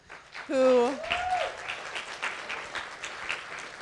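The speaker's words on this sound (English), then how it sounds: "if we can just give a round of applause to the Deauville team" A round of applause for the Deauville team at a keynote, a steady crowd clapping that rises right after a loud voice calls out and continues evenly at moderate level.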